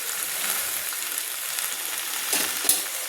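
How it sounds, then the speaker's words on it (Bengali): Ginger and green chilli paste sizzling steadily in hot oil while being stirred, with a constant close fry hiss and a few louder scraping stirs toward the end. "বেটে রাখা আদা আর কাঁচা লঙ্কাটাকে আমি নেড়ে নিচ্ছি, তেলের মধ্যে কষিয়ে নিচ্ছি।"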